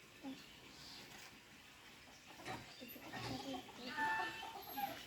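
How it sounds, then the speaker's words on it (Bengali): A rooster clucks faintly and intermittently in a farmyard, brief calls scattered over steady background noise, with other birds chirping thinly at a distance. "মোরগটা কি সুন্দর"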